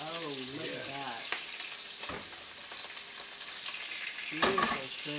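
Prawns sautéing in a hot pan give a steady, close sizzle and crackle, with a few sharper pops and scrapes. A brief voice-like tone is heard at the very start.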